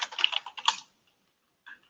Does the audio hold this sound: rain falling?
no